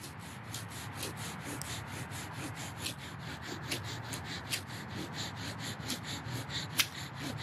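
A wooden bow drill spindle grinds steadily against a fireboard in a fast back-and-forth rhythm of rasping strokes, close and continuous, with a few sharper squeaks toward the end.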